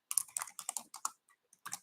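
Quick bursts of keystrokes on a computer keyboard as keywords are typed into a sales lead search, close and clear, a run of clicks followed by a short pause and a final cluster.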